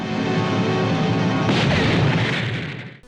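A heavy, booming explosion effect from the Dragon Ball anime, a single loud blast that swells into a rumbling, crackling roar and then drops off abruptly.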